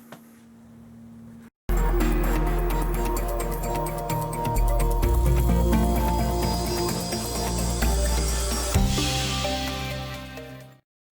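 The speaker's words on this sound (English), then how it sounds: "Again, using the polisher with a soft mop wheel," A polisher fitted with a soft mop wheel runs on a Suzuki GSX1300R Hayabusa motorcycle, giving a steady, loud whirring drone for about nine seconds after a short pause, then cutting out.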